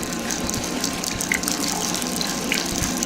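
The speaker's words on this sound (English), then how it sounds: "Great, there's a leak." Water pours steadily from a leak inside a test facility in the video game Portal Stories: Mel. The gushing hiss is loud and continuous, with no voices over it.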